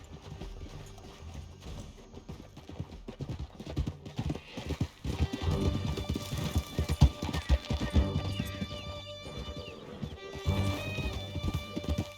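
Horses galloping in the video game Red Dead Redemption 2, a rapid, uneven clatter of hooves close by, rising and falling in loudness over a rumble, with brief voices now and then.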